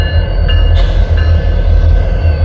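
BNSF yard locomotives switching railcars in Fremont, Nebraska, a heavy low diesel throb up close, with high metallic tonal squeals rising in over it.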